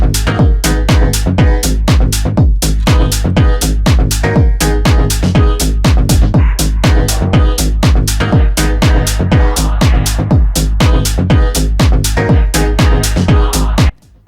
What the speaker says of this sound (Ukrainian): дуже качовий гаус з вокалом